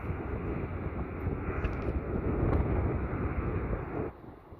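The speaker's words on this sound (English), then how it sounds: "Qantas Link Q400. The Q400." A QantasLink Q400 turboprop at Sydney Airport gives a steady, loud broadband roar, buffeted by wind on the microphone, that eases slightly near the end.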